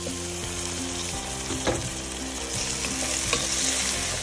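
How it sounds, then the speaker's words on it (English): Chopped onion fries in hot oil with bay leaves for Goan mutton xacuti. A steady, close sizzle runs throughout, with a few stirring scrapes, and no talk. "Add chopped onion. Mix and fry till"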